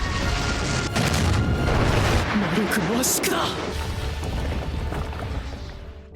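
A loud, roaring explosion effect from an anime battle fills the scene with a rumbling blast that slowly fades, while a character speaks over it.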